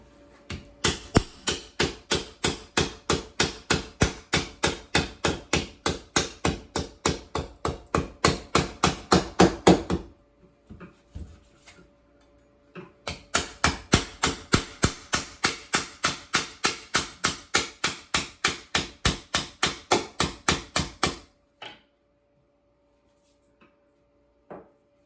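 A hammer drives shims into thick granite in two long runs of rapid, evenly spaced metallic strikes, close and loud, separated by a short pause and ending with a few isolated taps.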